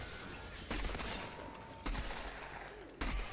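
Three heavy rifle shots in the video game Outriders ring out about once a second, each a sharp loud crack with a short decaying tail over quieter background noise.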